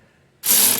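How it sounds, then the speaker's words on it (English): A ratchet works on 18 mm sway bar hardware on a Jeep Cherokee XJ, a single loud, close burst of fast clicking that starts abruptly after a near-silent moment. "I can connect the sway bar with the 18mm hardware and hopefully still get my ratchet on"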